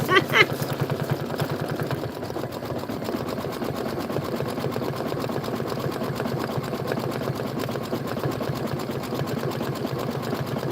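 A Kimberbell embroidery sewing machine stitches steadily, a continuous rapid mechanical chatter after a short rattle at the start, running on alone.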